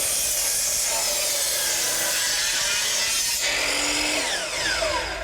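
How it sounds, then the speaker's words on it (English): A sliding compound miter saw rips through deck boards in a loud, sustained whine that briefly dips and then rises again as the blade finishes the cut. "Reen feels really confident using the sliding compound miter saw."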